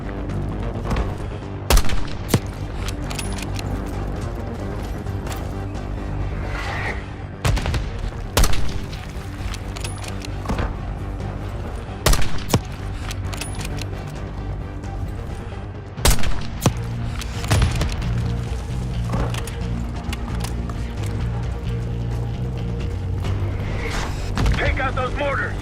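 Gunfire and mortar fire in the Call of Duty Black Ops 6 video game. Rapid bursts of shots and heavy booms hit repeatedly over a constant low battle rumble, with voices talking at times.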